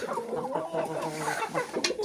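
Chickens and roosters, kept in a winter coop, cluck in a busy overlapping chorus, close and moderately quiet, with a sharp squawk near the end.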